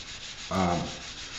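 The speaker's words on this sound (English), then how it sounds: "And this sandpaper is a little fine" A short, single rasping stroke of fine sandpaper across a metal 1911 pistol part, close and brief against a quiet background.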